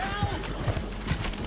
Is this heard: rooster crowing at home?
no